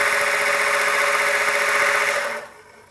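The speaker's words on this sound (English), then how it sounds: "It also alters the speed of the belt sander as well." A Durston belt sander runs with a steady high whine and buzzing hum, close and loud, then drops off sharply near the end.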